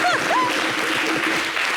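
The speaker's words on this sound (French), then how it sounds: "On l'applaudit, s'il vous plaît." Dense applause from a TV studio audience fills the whole moment, with a brief rising whistle or cheer near the start and some faint voices underneath.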